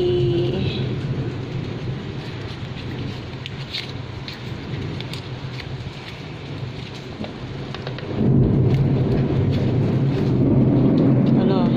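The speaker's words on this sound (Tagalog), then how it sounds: "Lakas ng ulan." Heavy rain pours down in a steady, dense roar that swells louder near the end, with a low rumble underneath.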